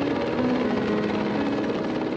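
A Soviet helicopter drones steadily nearby, its rotor thrumming evenly without a break.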